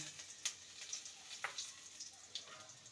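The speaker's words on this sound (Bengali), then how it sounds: "তেলটা গরম হয়ে গেছে ফোড়নে দেবো হাফ স্পুন পাঁচ ফোড়ন একটা গোটা শুকনো লঙ্কা আর একটা তেজপাতাকে দু টুকরো করে দিলাম" Half a spoon of five-spice, a whole dried red chilli and a bay leaf torn in two dropped into hot oil: a faint, quiet sizzle with scattered sharp pops and crackles, no talking.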